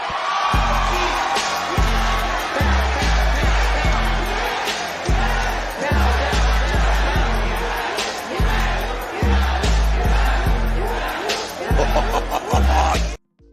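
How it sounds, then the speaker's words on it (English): Piped-in wrestling crowd noise at a COVID-era WWE show swells as a loud, continuous roar of cheering and whooping, with steady pounding beats underneath before cutting off abruptly at the end. "That crowd, that piped in crowd, that wasn't even a pop."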